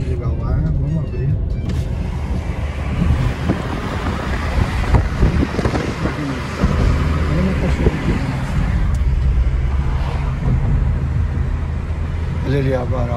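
Wind rushes in through a car window opened while driving on a road through the Serra Gaúcha in Brazil, a steady loud whoosh over low road and engine rumble, with people talking throughout.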